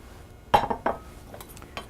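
Thin-sliced lamb is set into a bowl in a home kitchen, with a few brief, close dish-and-utensil clinks and knocks clustered together over a quiet background.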